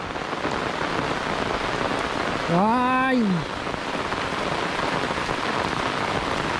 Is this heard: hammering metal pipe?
no